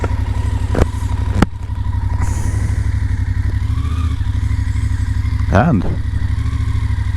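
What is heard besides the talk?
BMW F750GS motorcycle engine as rider sets off home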